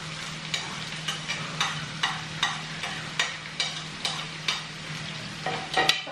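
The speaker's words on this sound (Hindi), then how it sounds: "अब ये जो प्याज है वो मैं इसमें डालूंगी।" Onion cooking in a pan for shahi paneer, a soft, steady sizzle under a string of sharp scraping strokes as it is stirred, fairly close, with no talk.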